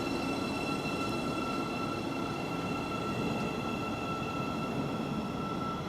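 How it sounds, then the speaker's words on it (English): A Class 700 electric train pulls out of Stevenage station, a steady, loud rolling hum with a sustained high motor whine throughout, heard close and without speech. "the 700 is now departing"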